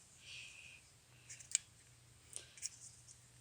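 A plastic lid on a 1999 Toyota RAV4 engine part snaps shut with a few sharp, faint clicks spaced apart in a quiet workshop.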